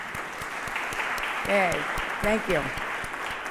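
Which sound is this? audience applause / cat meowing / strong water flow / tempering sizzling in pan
audience applause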